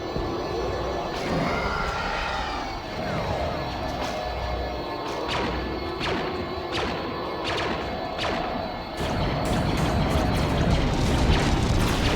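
A bomber aircraft in the Star Wars Battlefront 2 game sweeps overhead with a steady engine roar, mixed with thuds and crashing impacts. The noise grows heavier near the end and no one speaks.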